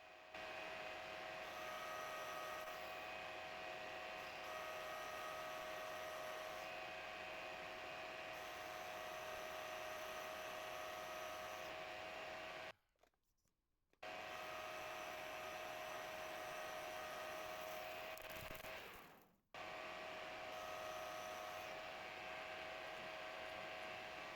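Steady machine whine with a high tonal hum running continuously from a milling machine turning a steel shaft to 25 millimeters diameter, broken by two brief pauses where the motor stops, close and loud.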